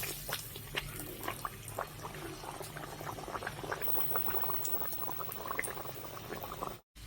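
Urad dal puri deep-frying in hot oil, a dense, continuous crackling sizzle with many small pops, steady and close, with no talk.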